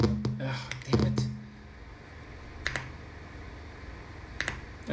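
Keystrokes on an Apple II computer keyboard while the Neuromancer game is played, a quick cluster of clicks at the start, then a couple of isolated taps later over a steady low hum.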